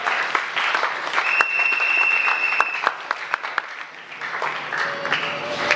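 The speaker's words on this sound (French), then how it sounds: "Est-ce qu'on peut acclamer pour le Seigneur?" A church congregation at a worship service applauds and cheers, with dense, sustained clapping, a few whistle-like tones, and the clapping thinning out toward the end.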